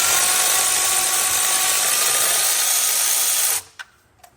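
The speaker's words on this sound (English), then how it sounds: "an electric ratchet makes it go much faster" A cordless electric ratchet whirs loudly and steadily for several seconds as it backs out a spark plug with a 13/16 socket and long extension on a 1965 Plymouth Barracuda's 273 V8, then stops abruptly and is followed by a couple of faint clicks.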